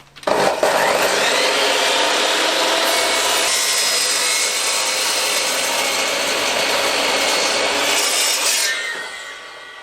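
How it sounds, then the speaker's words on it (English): A saw cuts through the legs of a 150-year-old butcher's block of dense old timber, a loud continuous rasping grind for about nine seconds that fades out at the end. "Time to get the saw set up and get these legs cut."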